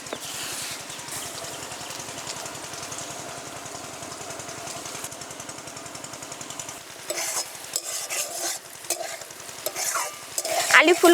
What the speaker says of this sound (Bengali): আলু ফুলকপি ভেজে নিয়েছি,